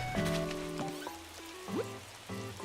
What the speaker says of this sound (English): ASMR rain, yes.